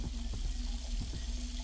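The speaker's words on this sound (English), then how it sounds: "Dirty sink water." Sink water runs in the Specter horror video game, a steady trickle from the tap over a low constant hum, with a few soft splashes and knocks.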